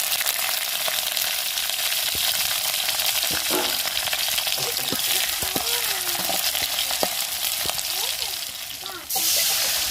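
Onions frying in a pan for a breakfast of idli and coconut chutney, a loud, close, continuous hiss of sizzling oil with occasional stirring clicks and a faint voice in the background.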